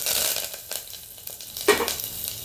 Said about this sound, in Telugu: ముందుగా కుక్కర్లో ఆయిల్ యాడ్ చేసుకుందాము. కొంచెం మరిగింది ఆవాలు, జీలకర్ర, ఎండుమిర్చి, అలాగే కరివేపాకు కూడా